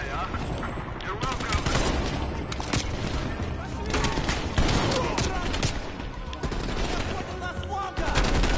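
Air support gunfire in Call of Duty: Black Ops Cold War, dense rapid bursts and blasts rattling nonstop across several seconds, loud and close, with voices talking faintly underneath.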